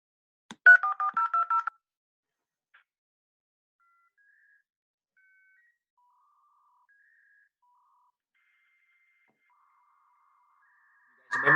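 A dial-up modem connects to AOL over a home phone line: a quick run of touch-tone dialing beeps, a long near-silent wait with faint scattered tones, then a loud burst of handshake noise at the end.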